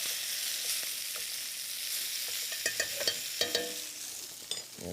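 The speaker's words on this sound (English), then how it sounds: "So the pork's looking really good here. Give it another quick baste here." Pork sizzling steadily in a hot pan during a cooking demo, a continuous bright hiss punctuated by several sharp crackles and spatters as it is basted, close and clear with no talking.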